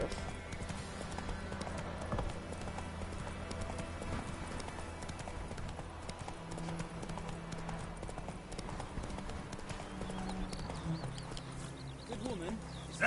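Galloping hooves of the horse Roach in The Witcher 3: Wild Hunt, a steady rapid clip-clop running the whole way under game music, with someone talking over it.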